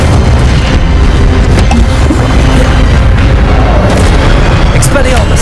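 Incendio fire spell cast in the video game Hogwarts Legacy, a loud, dense burst of roaring, crackling noise that fills the whole clip without letting up, with scattered sharper pops through it.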